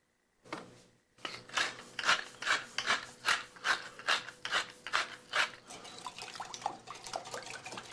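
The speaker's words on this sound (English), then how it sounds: "Just whisk that up." Eggs whisked with milk, salt and pepper in a bowl: a quick, steady run of rhythmic scraping, clattering strokes, close up, with no talk.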